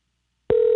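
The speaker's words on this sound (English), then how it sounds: "3 rings. Answer the darn phone." An outgoing telephone call rings: a steady electronic ringing tone starts abruptly after a moment of silence and holds loud and close.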